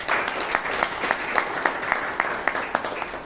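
Applause from a Toastmasters meeting audience in Bangalore for a speaker, a moderate indoor crowd clapping steadily with sharp individual claps standing out.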